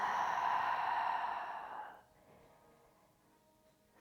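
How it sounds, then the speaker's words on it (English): A long, soft audible exhalation during a lower-body stretching exercise, breathy and close, fading out after about two seconds into near silence. "Audible exhalation."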